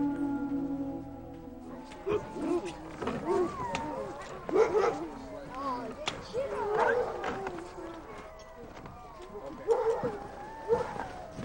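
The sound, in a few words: Greenland sled dogs barking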